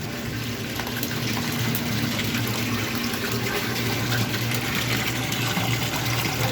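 Recycled washing machine water pouring into a drum, a steady loud rushing gush with a low humming undertone throughout.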